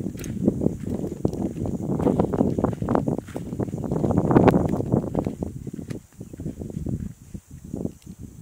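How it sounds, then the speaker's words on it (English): Breezy outdoor wind at Fort Pickens, a coastal fort, buffeting the microphone in uneven gusts that swell and fade over several seconds, with some footsteps or movement underneath. "Boy, that wind feels good."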